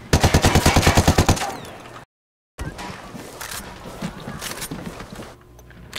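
Rapid automatic bursts from an AK rifle in the video game Ghost Recon Wildlands, a loud, fast, steady string of shots followed after a brief gap by scattered shots, clatter and game noise.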